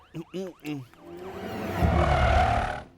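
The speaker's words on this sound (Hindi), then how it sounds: "एम्बुलेंस है।" An ambulance siren wails in rising and falling sweeps, then a rumbling vehicle noise swells up beneath it; a few short voice-like bursts come at the start.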